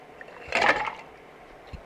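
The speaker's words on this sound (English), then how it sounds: "we're pouring this over ice, so we just really want that to be infused" Chilled cocktail being poured from a shaker over ice into a glass, a brief splashing, crackling pour that swells and fades within about half a second, followed by a faint clink.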